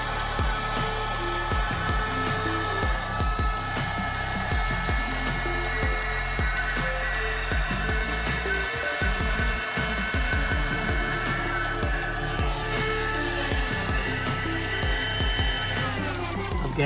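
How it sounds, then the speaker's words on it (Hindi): An Agaro handheld car vacuum cleaner runs steadily with a loud, continuous motor whine and rushing airflow, close by throughout, with some brief knocks and dips as the nozzle moves around car seats. "ये अगारो कंपनी की काफ़ी सही वैक्यूम क्लीनर है"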